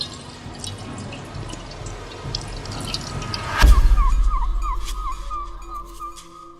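Water is poured into a basin in a film scene about Pilate, a sudden splash followed by a steady trickling pour and light dripping, close and fairly clear over a quiet, murmuring background.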